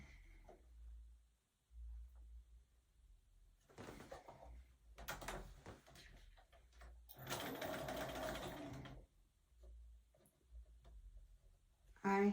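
Sewing machine stitching quilt blocks for a half log cabin pattern, several close whirring runs of varying length separated by quiet pauses and low handling noise.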